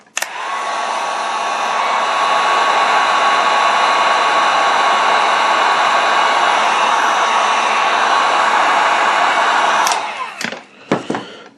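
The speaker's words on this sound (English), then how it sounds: "you can just hit it with a heat gun and kind of reflow it" A heat gun blows a loud, steady airy roar for about ten seconds while reflowing the coating on a Meck XB-702 during restoration, then cuts off, leaving a few brief clicks and handling noises.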